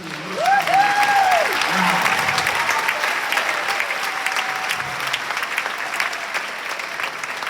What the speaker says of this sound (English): how about one more round of applause for Joanne Wenger and the music?